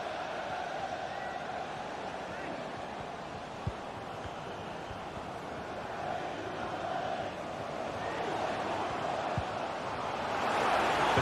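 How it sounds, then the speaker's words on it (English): A stadium crowd at a football match roars in a broad, sustained wash of voices, swelling gradually louder toward the end as the fans urge on a player. "The crowd encouraging him to take it on"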